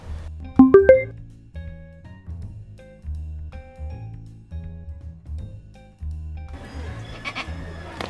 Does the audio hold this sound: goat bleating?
yes